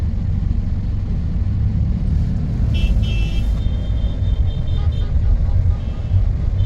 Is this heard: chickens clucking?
no